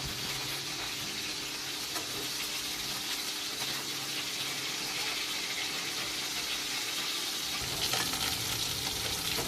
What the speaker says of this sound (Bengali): এইভাবেই আমি মাছটাকে ভেজে নেব।